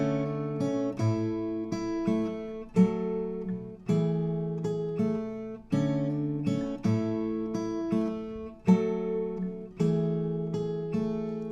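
An acoustic guitar picks a song verse, a repeating fingerpicked pattern cycling steadily at moderate volume with no voices.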